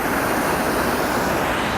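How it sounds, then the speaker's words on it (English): A waterfall rushes steadily beside a spot where a WLToys Q353 Triphibian drone is flown, a loud, dense, unbroken wash of falling water filling the scene without talk. "Hopefully we're not getting too much noise from the waterfall here"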